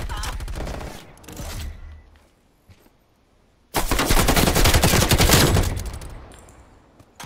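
Krig 6 rifle firing full-auto in Black Ops Cold War, a short loud burst, a pause, then a longer sustained roar of rapid gunfire that fades out.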